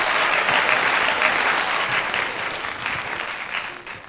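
A studio audience gives sustained, dense applause for a singer at a televised talent show, loud and continuous before gradually thinning out toward the end.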